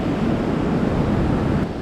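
Surf breaks and washes steadily onto a deserted tropical island beach lined with coconut palms, a continuous close roar mixed with wind buffeting the microphone.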